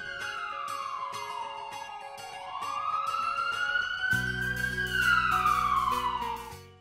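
A free ambulance service's siren in Vietnam wails loud and near, sweeping down and back up in pitch, with a deep droning tone joining partway through.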